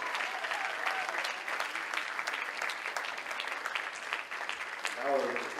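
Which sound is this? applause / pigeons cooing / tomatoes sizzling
applause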